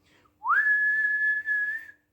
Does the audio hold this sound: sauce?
no